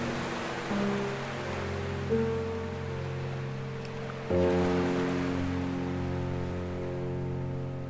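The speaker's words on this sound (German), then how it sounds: "Höre den Wellen zu," Ocean waves break and wash onto a beach as a steady, soft hiss that swells and recedes, under calm sustained musical tones with no voice.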